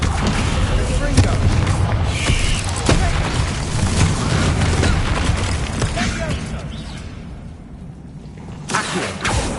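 Spell blasts from Bombarda and Incendio in Hogwarts Legacy, a dense run of booming, crackling impacts and fiery bursts layered over game music and effects, loud and continuous throughout, with a quieter dip near the end.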